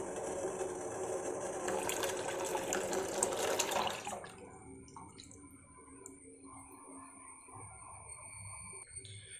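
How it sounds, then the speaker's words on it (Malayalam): Ragi flour mixture poured into a pot of boiling water, a steady rushing pour for about four seconds that then drops to a quieter bubbling simmer. "ഇപ്പം നമ്മൾ ഈ തിളച്ച് വരുന്ന വെള്ളത്തിലേക്ക് നമ്മളിത് ഒഴിച്ചു കൊടുക്കുകയാണ്."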